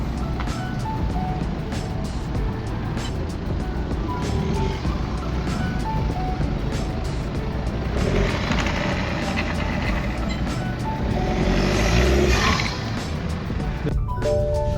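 A wrecked BMW F22 2 Series with its bonnet open drives slowly, a low engine rumble with rattles and clunks, steady and near, swelling louder toward the end.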